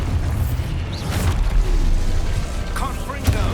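Expulso explosion spell blasts in Hogwarts Legacy, a few dull booms and pops with magical swooshes over rumbling combat, while a voice shouts spell names.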